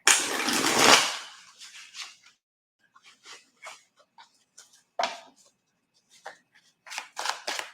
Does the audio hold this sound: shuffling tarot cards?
yes